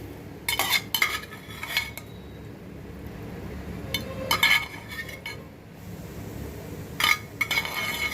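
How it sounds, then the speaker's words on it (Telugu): Metal lid placed onto a cooking pot of okra and prawn curry, heard as a few sharp clinks and clatters near the start, middle and end, with faint kitchen background between. "ఉప్పు వేస్తే మూత పెట్టేస్తున్నాను"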